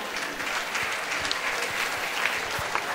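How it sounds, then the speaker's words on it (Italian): The audience at a local beauty pageant applauds a contestant with steady, full clapping. A few louder individual claps stand out from the crowd throughout the short burst. "Un applauso a Martina."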